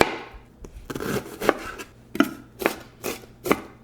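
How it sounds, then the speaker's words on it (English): A knife chops through a large onion on a cutting board in a cottage pie kitchen, giving a series of sharp, close, irregular thuds with short scraping sounds between strikes. "Next, I want to chop 1 onion."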